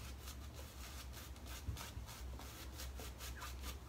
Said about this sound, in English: and then get working on the lather